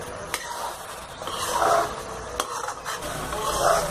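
A spoon scrapes and stirs through a sweet-sour pumpkin and raw mango curry in a pan, with soft sizzling and repeated close scraping strokes plus occasional sharp taps against the metal.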